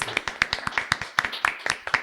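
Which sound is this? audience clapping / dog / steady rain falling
audience clapping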